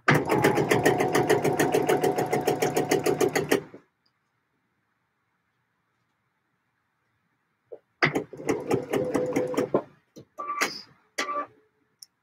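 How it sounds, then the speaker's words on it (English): A sewing machine stitching a coat runs in a fast, even rhythm, then stops, leaving a long silence. It starts again in shorter bursts with some clicks and handling noise. "there is actual sewing happening"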